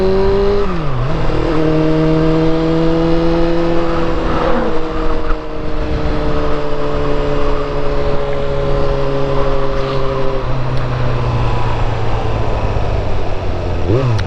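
A sporty motorcycle ridden on a country road, its engine revving up and down through gear changes with rising and falling tones, loud and close throughout, with wind noise and no clear talk.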